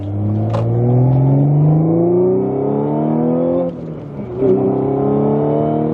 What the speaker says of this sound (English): once you get higher in the RPMs, it definitely has a little bit of a higher note